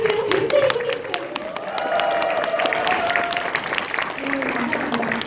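Seminar audience breaking into sustained applause, a dense wash of many hands clapping at steady loudness with faint crowd voices and an amplified voice drifting underneath throughout.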